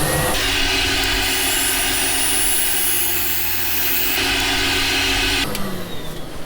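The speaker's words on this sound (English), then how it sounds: "I'm going to turn my my blower on." Workshop blower or dust extractor switched on during woodturning of an ash bowl, a loud steady roaring whoosh with a constant hum that holds evenly for several seconds before changing abruptly near the end.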